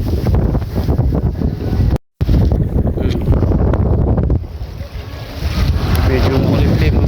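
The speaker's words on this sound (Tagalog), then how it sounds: "Lakas ng hangin." Strong wind roars and buffets the microphone without letup on a fishing outing, with the steady wash of water beneath it.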